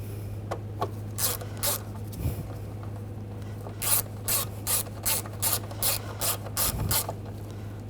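Screwdriver ratchet clicking in repeated quick bursts while a screw is tightened into the oil pressure switch of a 2011-2018 Volkswagen Jetta, close and crisp over a steady low hum, with no voices.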